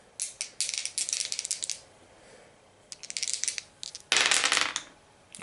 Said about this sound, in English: let's get 2 dice.